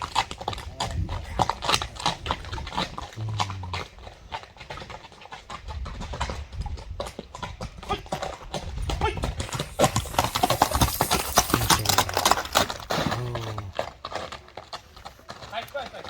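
A white horse's hooves clip-clopping in a steady walking rhythm close by, with a brief whinny and people talking throughout.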